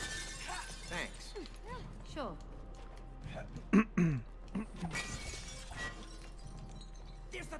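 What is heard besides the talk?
glass shattering in the video game It Takes Two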